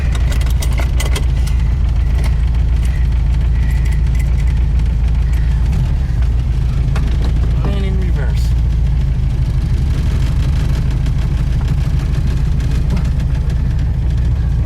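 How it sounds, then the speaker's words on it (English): A VW Beetle engine fitted with a Weber 34 ICT carburetor idles steadily and strongly up close, a continuous low rumble with a brief rising rev partway through and a voice speaking over it. "even at idle the engine's running strong"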